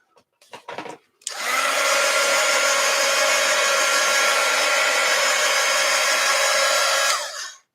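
A hair dryer blows on a wet art journal page, loud and close, starting abruptly after a few small knocks and roaring steadily for about six seconds before cutting off.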